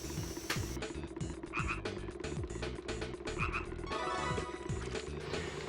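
Frogs croaking in the video game Simple2000 on a patio near a pond, with repeated rhythmic croaks layered over a steady ambient game background, fairly close and loud, with no talking.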